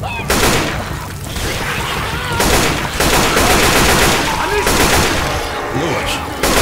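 Gunfire from Left 4 Dead 2 rattles continuously in loud, dense bursts of rapid shots, nearly unbroken across the whole stretch, with voices talking over it.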